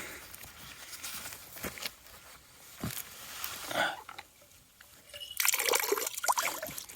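Water trickling and dripping at a Big Sur backpacking campsite, an uneven close patter of small splashes with quieter gaps and a busier burst near the end.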